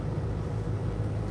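A Kenworth T680 truck's engine pulls a slight grade at about 1,100 RPM, heard as a steady low, even drone from inside the cab with no voices.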